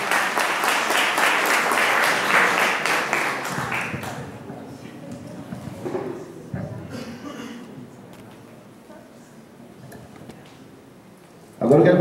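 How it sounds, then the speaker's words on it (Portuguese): Audience applause at a graduation ceremony for HR and interpersonal relations in Pingo D'Água, Minas Gerais, loud and dense for the first four seconds, then fading into quieter room murmur before a brief loud burst at the end. "Aplausos, gente."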